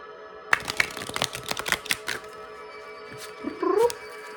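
Thick oracle card deck being shuffled up close: a quick run of crisp flicking card taps, then a short pause and a brief riffling rustle.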